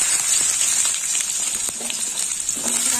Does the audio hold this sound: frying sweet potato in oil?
yes